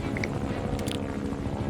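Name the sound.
helicopter in the video game Metal Gear Solid V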